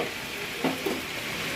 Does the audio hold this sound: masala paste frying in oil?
yes